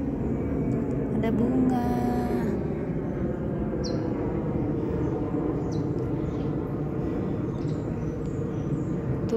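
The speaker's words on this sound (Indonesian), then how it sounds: "Tuh di sini selalu ada pesawat," A plane passes over an organic home garden, a steady low drone filling the background beneath a man's brief speech and occasional high bird chirps.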